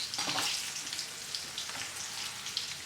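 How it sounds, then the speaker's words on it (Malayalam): Garlic frying in hot oil for a Kerala mixture snack, a steady, close crackling sizzle that holds evenly throughout with small popping bursts and no talk. "വെളുത്തുള്ളി ചേർത്ത് വെളുത്തുള്ളി നല്ല ക്രിസ്പി ആവുന്നവരെ ഒന്ന് വറുത്തെടുക്കണം"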